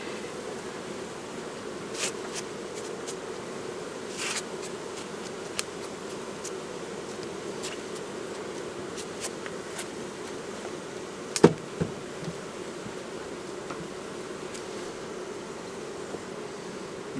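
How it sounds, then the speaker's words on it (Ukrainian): Ukrainian steppe honey bees buzz in a continuous close hum while honey frames are pulled from a hive without smoke, with occasional sharp clicks and a louder tap partway through. "Українська степова бджола."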